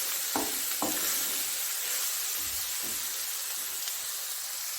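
Chicken kachori filling sizzling in a pan, a steady bright hiss of frying with a few soft stirring knocks early on, no talking.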